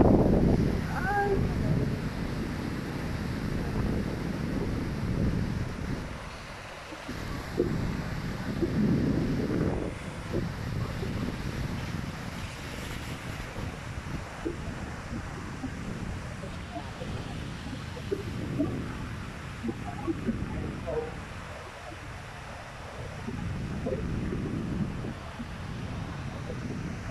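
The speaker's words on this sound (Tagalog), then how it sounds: "Ayan, lakas ng hangin." Strong typhoon winds from Typhoon Ulysses roar without a break against the microphone, with gusts rising and falling and a voice speaking faintly at moments.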